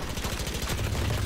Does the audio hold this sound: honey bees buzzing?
no